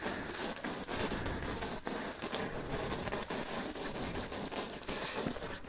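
Rain falls steadily during a motorcycle ride near Munnar, a dense, continuous patter of drops mixed with wind and road noise that stays loud and unbroken throughout, with no voices.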